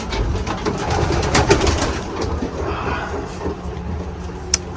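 Pigeons coo softly in a racing pigeon loft, with low repeated calls and faint wing flutters over a busy background, and a sharp click near the end.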